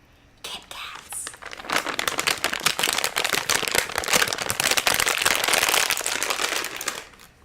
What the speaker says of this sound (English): This is ASMR Kit Kats.